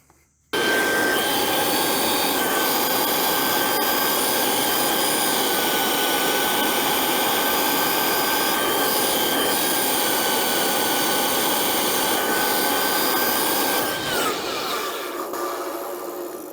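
A Dumore toolpost grinder spins on a lathe running in reverse, giving a loud, steady high-pitched whine with a broadband rushing hum that holds for about thirteen seconds and then winds down.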